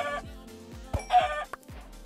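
Minecraft chickens clucking in short repeated bursts at a steady pace, with a few brighter squawk-like notes in between, fairly close and clear with no talking over them.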